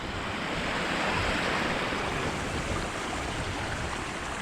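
Waterfall in eastern Iceland roaring as a loud, steady broadband rush of falling water, constant and close with wind buffeting, no voices.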